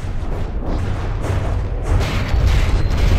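Crown cannons firing in the game From the Depths, heavy booming blasts and rumbling impacts in quick succession with a louder burst near the end, no talk over them.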